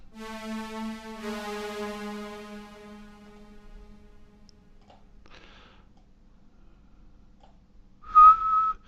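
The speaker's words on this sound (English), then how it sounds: "I whistle the tune, and because I've never been musically trained, but I just whistle the tune." A person whistles a tune alone, a few sustained melodic notes that fade out, followed by a couple of faint clicks and a short louder whistle near the end.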